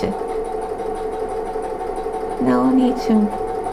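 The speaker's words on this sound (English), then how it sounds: "the sewing machine is programmed so that it stops when the buttonhole is ready" Sewing machine stitching a buttonhole on a vest, a steady mechanical hum with a brief louder whirring burst near the end as the stitching finishes, heard under a person talking.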